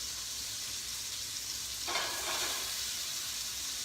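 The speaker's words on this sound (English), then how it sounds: "Obviously, you can hear the sizzling now," Steady hissing sizzle of chicken piccata frying in a pan, close and continuous, with a brief louder crackle partway through.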